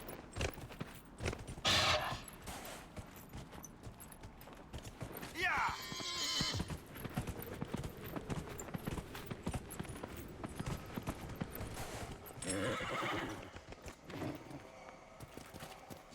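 A horse in a video game neighs in several loud whinnies while hooves clip-clop in a steady rhythm, with game noise and someone talking over parts of it.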